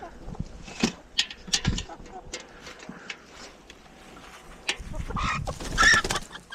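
Backyard chickens cluck and squawk in a snowstorm, scattered short calls and flutters at close range, with a person talking intermittently over them.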